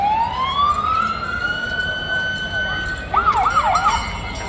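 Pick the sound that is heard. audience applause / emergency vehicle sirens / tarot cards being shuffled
emergency vehicle sirens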